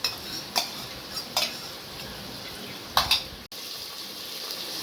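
Onions being stirred with ginger-garlic paste in a pan for mushroom biryani, a few scraping spoon strokes clustered over steady soft sizzling, close by, no talk.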